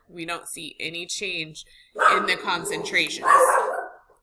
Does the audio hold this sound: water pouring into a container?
no